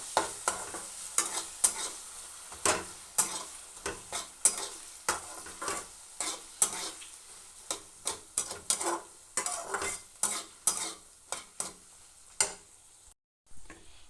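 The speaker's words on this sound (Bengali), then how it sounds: "আলু ভাজার মাঝখানটা একটু ফাঁকা করে আমি একটা ডিম ভেঙে দিয়ে দিলাম এবার এগুলোকে খুব ভালো করে মিশিয়ে নেব" Fried potatoes with a cracked egg being stirred in a pan, a soft background sizzle punctuated by a long run of sharp spatula taps and scrapes against the metal, close and rhythmic, with no voices.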